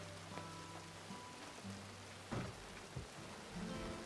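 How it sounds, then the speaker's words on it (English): Rain in a video game set in a rural Western setting, a soft continuous patter over ambient music with a couple of low rumbles partway through. "this rain is starting to soak"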